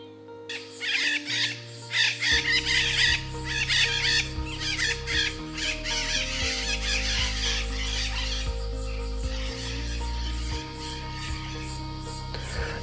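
Birds in geodesic dome aviaries near the Statue of Unity chirp and cluck in busy bursts over steady background music, fairly loud, with no talk.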